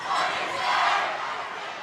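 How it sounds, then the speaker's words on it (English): A crowd at a boys' high school basketball game between Mount View and MDI roars and cheers steadily throughout, a loud broad wash of voices with no single clear speaker. "Crowd get into it."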